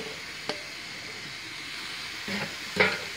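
Mushrooms dropped into a pan of stir-fried pork, a steady soft sizzle with a brief clack early on and a louder burst of frying near the end.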